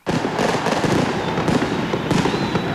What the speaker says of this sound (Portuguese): Esse negócio de fogo, quando eu entrei, foguetório danado